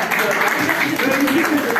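A burst of clapping from an audience runs under a speaking voice, dense and continuous for the short stretch.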